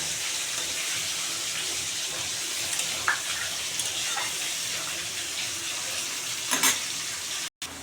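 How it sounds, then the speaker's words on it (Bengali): Water is poured into a pan of sizzling, cooked-down spices for a tomato and pabda fish curry, giving a steady rushing, frying hiss with a few brief splashes, close and fairly even throughout. "এখন আমি জল দিয়ে দেব"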